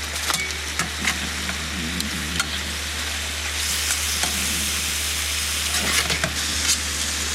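Prawns dusted with curry powder sizzle steadily in the lid of a camp oven used as a frying pan, a constant close hiss broken by sharp scraping stirs, with a low steady hum beneath.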